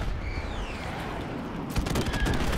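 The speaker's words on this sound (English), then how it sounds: "I always forget it's a carpet bomb." Carpet bomb airstrike in Call of Duty 4 Remastered, a jet streaking overhead followed by a rapid ragged volley of loud explosions crackling in the second half.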